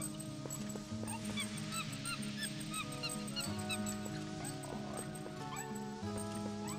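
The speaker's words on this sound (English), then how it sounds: "That doesn't even sound like a monkey, it sounds like one of my dog's squeaky toys" Squeaky monkey calls from the Zelda: Twilight Princess video game, repeated high chirps over tonal in-game music, with honk-like cries recurring throughout.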